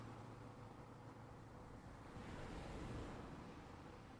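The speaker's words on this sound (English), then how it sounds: "You start hearing the waves of ocean in a distant area" Distant ocean waves roll in a soft, steady wash, swelling slightly partway through before easing back, faint and continuous with no voices.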